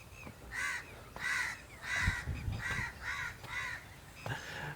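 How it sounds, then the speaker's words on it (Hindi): Crows caw repeatedly over a Punjab village rooftop after rain, a steady series of six or seven harsh calls at a regular pace, moderately close, with no talking. "परिंदे चहचहा रहे हैं"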